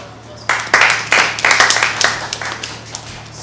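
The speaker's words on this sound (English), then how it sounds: "He's a round of applause." Clapping breaks out in a room during a workshop, loud and close at first and then gradually thinning out, with a low steady hum running underneath.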